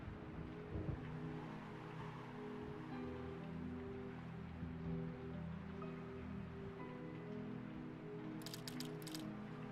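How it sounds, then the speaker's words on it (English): Rain in the video game The Sinking Island, a faint, steady hiss of rainfall over a low ambient drone, with a brief, bright chime-like sound near the end. "Day 2 Saturday, still super rainy."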